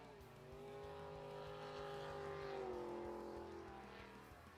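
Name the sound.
racing powerboat engine backing off the throttle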